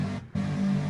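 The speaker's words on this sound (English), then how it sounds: "It's oscillators with some noise, very detuned, and then I have a filter automation." A very detuned two-oscillator synthesizer tone with added noise holds a steady, buzzing low pitch. It drops out briefly near the start, then returns and sustains at moderate volume without any voices.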